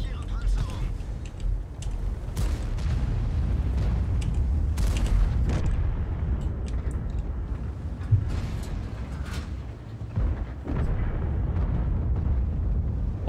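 Tank cannon fire and explosions from the online game World of Tanks, a dense run of heavy booms and blasts over a rumbling battle bed, with a few sharper shots standing out and continuous loud action throughout.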